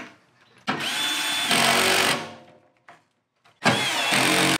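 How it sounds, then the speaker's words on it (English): A power drill driving a screw into a furnace blower motor mount whirs in two bursts, each climbing in pitch then cutting off, with a short pause and a brief blip between. "I screw it in and then I finish it off by hand with that same drill"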